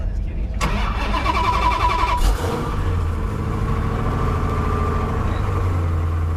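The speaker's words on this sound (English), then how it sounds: "Go ahead and put it in neutral and crank it till it starts." Someone's Plymouth Roadrunner muscle car cranks briefly with a sharp starter whir, then catches and settles into a deep, loping idle, with people talking around it.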